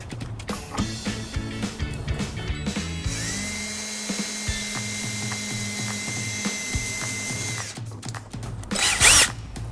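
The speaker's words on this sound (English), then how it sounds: "We're just going to put a couple of small holes in the bottom of the fascia." A power drill bores a couple of small holes in the bottom of a 2013 Ford Escape's bumper fascia during a trailer wiring install, whirring in short bursts with a sustained run in the middle and clicks and handling noises around it.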